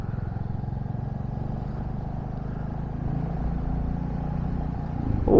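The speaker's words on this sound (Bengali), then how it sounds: "সুন্দর বাইকের আওয়াজ" A Royal Enfield Bullet 350 motorcycle engine runs steadily while being ridden on a mountain road, a close, constant low throb that swells slightly toward the end.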